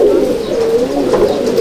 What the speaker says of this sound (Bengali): এই হচ্ছে পায়রা হাবলুক